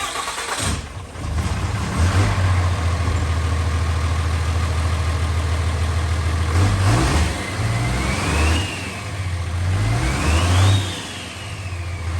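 Diesel pull truck fitted with an HE351CW turbo fires up and settles into a loud, steady idle with a couple of revs, turbo whistle rising and falling near the end.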